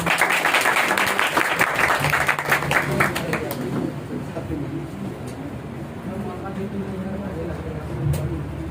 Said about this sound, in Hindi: एक बार ताली हो जाए फिर से